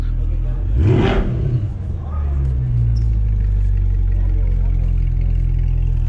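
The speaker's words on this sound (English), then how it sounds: "See if he revs it at least once." A 2020 Corvette Stingray engine revs up sharply in one rising sweep, then settles into a steady loud rumble with people talking faintly in the background.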